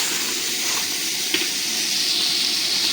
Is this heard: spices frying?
yes